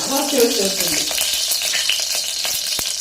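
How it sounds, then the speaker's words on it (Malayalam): Sliced onions frying in oil inside a pressure cooker, giving a steady close sizzle with light stirring clicks throughout. "അപ്പോഴേക്കും ഇത് ഉള്ളിയൊക്കെ ഒന്ന് വാട്ടിയെടുക്കുക കുക്കറിലിട്ടിട്ട് നമ്മൾ ഓയിൽ ഒഴിച്ചു കൊടുക്കണം"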